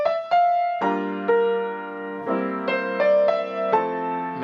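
Left-hand piano voicings of seventh chords moving through a 2-5-1 progression in a jazz drill, several sustained chords struck one after another with single high notes added on top, clear and close with no talk.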